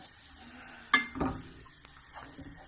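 A spoon stirs flour into melted butter in a pan for cheese sauce, quiet soft scraping with one sharp metallic clink of utensil on pan and low sizzling, no speech.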